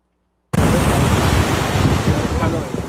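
Ocean waves wash in steadily near Alcatraz on San Francisco Bay, a dense, continuous roar of surf that starts abruptly after a short silence and stays loud and close, with some wind noise on the microphone.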